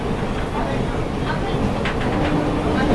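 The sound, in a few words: Kharagpur to Digha local train running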